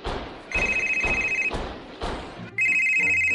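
An incoming call on a telephone rings in repeated loud electronic trills, several close bursts separated by short gaps, with no talk.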